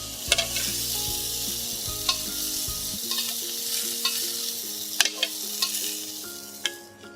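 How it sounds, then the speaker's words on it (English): Octopus tentacles sizzle steadily in a hot pan, a constant bright frying hiss with occasional sharp clicks and scrapes of stirring, close and loud, with no talking. "our tentacles, we just take them, toss them in a hot pan"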